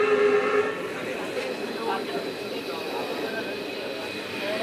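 A passenger train on the Bathinda to Fazilka line in Punjab rumbles steadily, with a sustained droning tone and a low rolling hum, fairly close and continuous.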